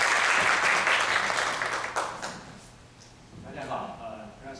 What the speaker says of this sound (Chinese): 欢迎热烈掌声欢迎